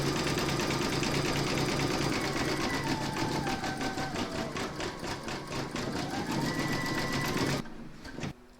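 A sewing machine zigzag-stitches along the edge of an embroidered shark's belly, a loud, fast, relentless mechanical rattle with slight shifts in pitch, cutting off sharply just before the end.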